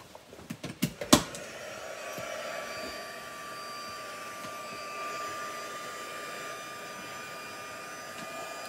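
A hair dryer blows on glycerin and dry pastel artwork. Several sharp clicks come first, then the dryer holds a steady, fairly loud whooshing drone at close range with no talking.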